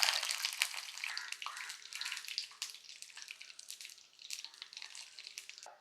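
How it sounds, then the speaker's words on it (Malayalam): Dried red chillies and curry leaves fry in hot oil with a steady, close crackling sizzle and scattered pops and spits, heard alone without talk. "ഈ വറ്റൽമുളകും മുറിച്ചതും വറുത്തെടുക്കണം"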